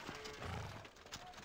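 Donkey hooves clip-clopping in a Hercules animated storybook computer game, a quick run of light hoof beats near the cart, close and fairly steady, with a brief whinny-like tone over a busy background.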